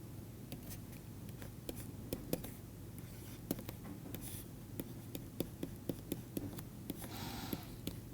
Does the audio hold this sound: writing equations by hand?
yes